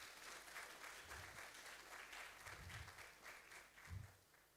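Audience applause at a Ghanaian ambassadors' conference honouring new envoys, a steady wash of many hands clapping from a distance, fairly faint, with a few deeper thuds.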